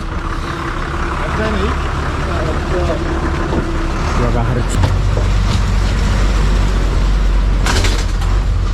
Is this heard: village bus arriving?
yes